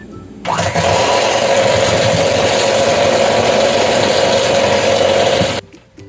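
A stand mixer runs on low speed, blending flour into cookie dough with a loud, steady motor whir and gear hum that starts abruptly and cuts off near the end.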